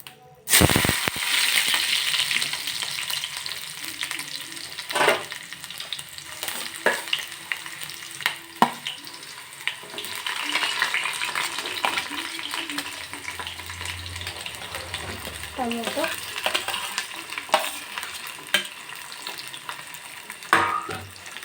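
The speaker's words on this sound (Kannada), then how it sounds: "ಈರುಳ್ಳಿ ಟೊಮೊಟೊನ ಹಾಕಿದ್ದೀವಿ" Onions and tomatoes sizzle steadily in hot oil in a small pot, a loud continuous frying hiss with occasional clinks of a stirring spoon against the pan.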